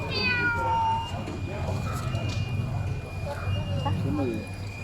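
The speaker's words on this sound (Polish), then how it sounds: "Tutaj kotki z ładnymi niebieskimi oczami." Cats with blue eyes meowing at a stall in a market that sells small animals such as geckos, lizards and snakes; several drawn-out meows rise over a busy, murmuring crowd and steady background hum.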